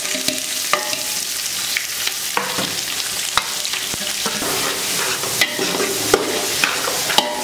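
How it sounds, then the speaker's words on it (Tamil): Onions fry in a pan with garlic for a garlic gravy, crackling with a steady sizzle while a utensil scrapes and clinks against the pan in irregular stirring strokes. "இப்போ வெங்காயத்தெல்லாம் கொட்டுறோம்."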